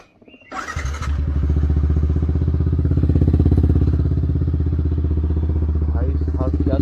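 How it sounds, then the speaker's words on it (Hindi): Motorcycle engine cold-starting on an early morning before a ride: a short cranking clatter, then the engine catches and settles into a loud, steady rumbling idle close by, with faint voices in the background. "भाई साहब क्या तो कोल्ड स्टार्ट हुई है।"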